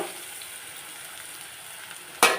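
Potatoes frying in a pan for potato kurma, a soft steady sizzle throughout, then a sudden louder burst of crackling near the end as the pan is stirred.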